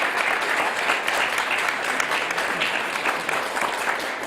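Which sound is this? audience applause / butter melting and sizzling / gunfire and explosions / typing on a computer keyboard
audience applause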